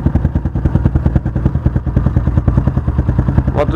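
Malcor XZF 250cc motorcycle engine idling close by, a loud, steady rhythmic thumping exhaust pulse with mechanical clatter, running alone without talk.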